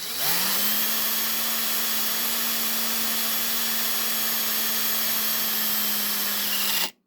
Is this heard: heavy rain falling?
no